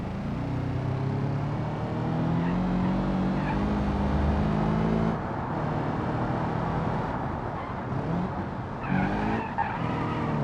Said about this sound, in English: The sound has been completely redone on all the flat 4 engines.